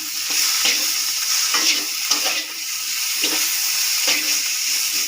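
Chopped tomato and green chillies stirred in a frying pan, with a steady sizzle and repeated scraping strokes of the spoon at close range, with no voices.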